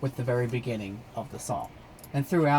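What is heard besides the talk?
No distinct noise like a dog, phone or traffic.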